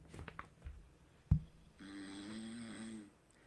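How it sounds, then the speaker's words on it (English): A person snoring at night, played back from a phone held up to a microphone: after a thump, one long rasping snore breath holds steady for over a second, thin and moderately faint. "So that's me snoring at night."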